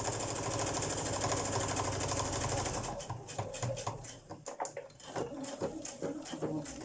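A sewing machine runs a steady, fast stitching rhythm along a folded denim bag strap for about three seconds, then stops, leaving softer handling clicks and rustles close by.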